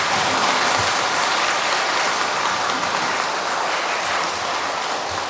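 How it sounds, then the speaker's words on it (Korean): A church audience at Madu-dong Cathedral gives a priest loud, sustained applause after his spirituality lecture, dense clapping from many hands that fills the hall and fades slightly toward the end. "강의해 주신 우리 신부님께 다시 한번 큰 박수 부탁드리겠습니다"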